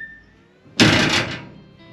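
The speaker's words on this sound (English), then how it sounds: "Now this door's noisy when you shut it." The door of a 1956 Ford F100 pickup slams shut once, up close, with a loud metallic clunk and a short rattling ring-out.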